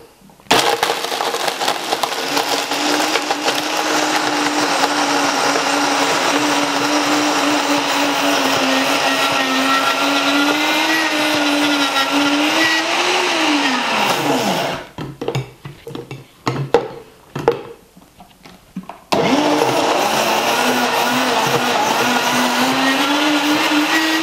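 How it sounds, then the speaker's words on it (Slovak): A blender whirs steadily as it mixes raw energy ball ingredients, running loud and continuous, then stopping briefly for a few short pulses before resuming at full power. "Výkon na mixéri budeme pridávať postupne a budeme mixovať podľa toho, ako bude potrebné."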